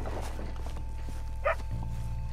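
Dog in Red Dead Redemption 2 giving a single short, faint bark, close but quiet, set against a low steady hum with no talk over it.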